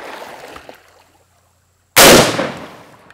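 Single sharp rifle shot at a target, a loud sudden crack with a decaying tail that follows a second of near silence after faint outdoor noise.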